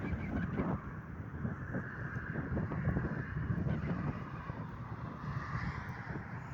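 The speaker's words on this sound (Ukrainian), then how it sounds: "Вітер е, дуже холодний." Steady, strong, cold winter wind buffets the microphone on a road toward Grójec, Poland, a continuous low roar, unbroken and fairly loud for the whole stretch, with no voices.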